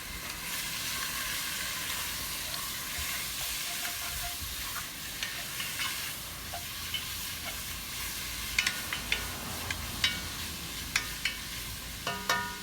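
Bacon sizzles steadily in a pot for a one-pot chilli, a continuous close frying hiss broken by sharp pops and occasional utensil clicks toward the end.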